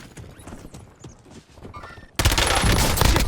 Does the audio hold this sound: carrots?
no